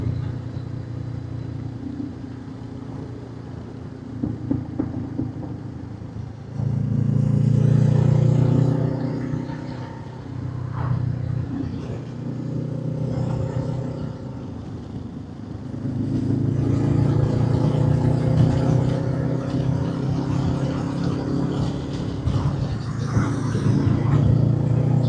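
A Honda CB500X motorcycle fitted with a new aftermarket exhaust and rear silencer rides along mountain roads in Wales, its engine note rising and falling through revs and gear changes, moderately close with wind noise.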